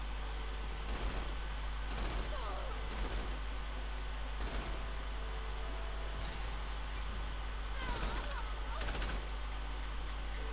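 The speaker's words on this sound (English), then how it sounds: "considering how many bullets are being fired" Bursts of gunfire ring out in Saints Row IV, several loud volleys spaced a second or two apart over a steady low engine-like drone.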